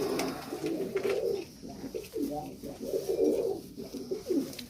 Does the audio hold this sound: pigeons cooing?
yes